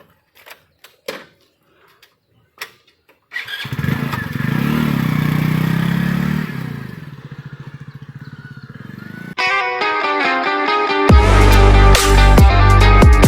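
A motorcycle engine starts after a few sharp clicks and clatters, then idles and revs loudly up close, rising to a stronger roar toward the end.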